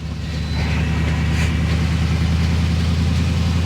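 A Chevy COE truck engine drones steadily while driving, a loud low rumble with a continuous throb that rises slightly after the first half second and then holds even, with no talk.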